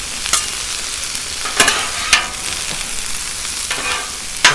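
Cajun shrimp and smoked sausage fry on a Blackstone griddle with a loud, steady sizzle right up close, punctuated by occasional sharp scrapes and clacks of a spatula stirring and chopping.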